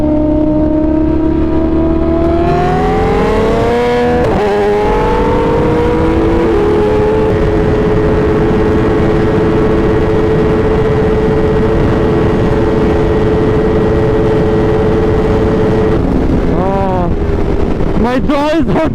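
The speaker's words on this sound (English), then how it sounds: "Beautiful inline 4 cylinders." An inline four-cylinder supersport motorcycle engine drones loud and steady at highway speed, its pitch climbing early on then holding, with heavy wind buffeting over it and a couple of brief revs near the end.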